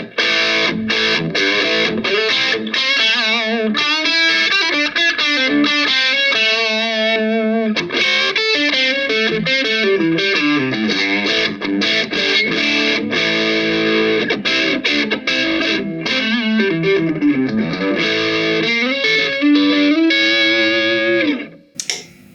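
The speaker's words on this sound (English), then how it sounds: "So now we're going to have some humbucker with a bit of crunch." Yamaha Revstar electric guitar played through a twin humbucker setting with crunchy overdrive, strummed chords and riffs ringing loud and steady for about twenty seconds, close and alone.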